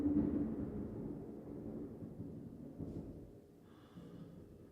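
Distant thunder from lightning in central Florida, a low continuous rumble that rolls on for several seconds and slowly fades, with no voices over it.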